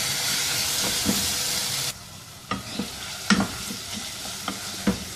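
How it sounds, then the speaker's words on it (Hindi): Grated carrots sizzle and fry in three tablespoons of ghee while being stirred, a loud steady hiss that drops after two seconds, followed by several distinct scraping stirs of the spoon against the pan. "अब इसमें शामिल कर देने हैं 3 खाने के चम्मच घी के और अब इनको 4-5 मिनट अच्छी तरह से भून लेंगे"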